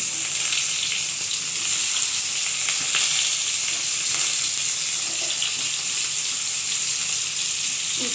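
Bitter gourd fries in hot oil with a loud, even, unbroken sizzle and faint stirring scrapes, no voices over it.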